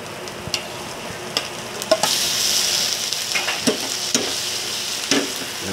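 Shrimp hitting a hot frying pan set off a bright, loud sizzle that swells at once and holds steady, broken by the occasional clack and scrape of stirring, with no voices.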